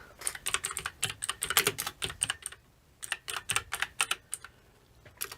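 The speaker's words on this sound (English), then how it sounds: "And do forgive any horrible typing issues that involve multiple letters happening." Rapid clattering keystrokes on a computer keyboard come in quick bursts, a brief pause splitting two runs of close, crisp typing with no voices.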